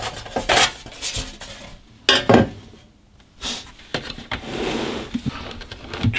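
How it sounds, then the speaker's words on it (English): Metal cabinet of a Drake TR7 radio being lifted off, with irregular rattles, clanks and scraping knocks in separate bursts, fairly close and loud, no voices. "Let's take off the cabinet."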